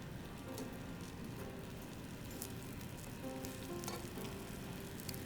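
Goat cheese crostini sizzling in a cast iron skillet, a steady, even frying hiss with soft crackles throughout and no voices.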